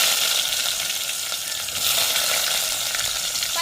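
Chopped large onions hit a hot pan of oil already holding fenugreek and curry leaves for a crab gravy, giving a steady, close, even sizzle with faint stirring throughout.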